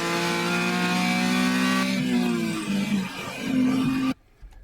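A race car engine on the Utah Motorsports track roars at full throttle out of a corner, loud and close, its pitch holding high, dipping briefly and climbing again before cutting off abruptly.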